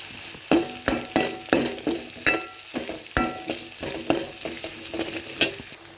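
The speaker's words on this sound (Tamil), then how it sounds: "இது கூடவே கட் பண்ணி வச்சுருந்த பச்சை மிளகாய் ஆட் பண்ணிக்கலாம்." Chopped green chillies stir-fried in hot oil with masala for a fish kulambu, steady sizzling and frying under frequent sharp clinks and scrapes of a stirring spoon against the pan, close-up with no talk.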